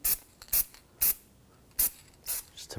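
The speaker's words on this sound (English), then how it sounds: "Just going to spray a little anti-seize on here," Anti-seize sprayed onto the front brake hub of a 2004-2009 Audi A4 Quattro comes out in five or six short, sharp aerosol bursts with brief pauses between them, close and moderately loud.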